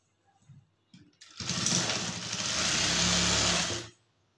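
A sewing machine runs in a steady whirring burst for about two and a half seconds while stitching a blouse seam, after a few faint handling taps.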